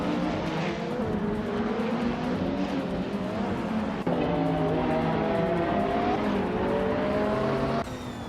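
Race cars in a video game, several engines whining and rising in pitch as they accelerate and shift, overlapping passes with a steady loud roar and a brief tire squeal.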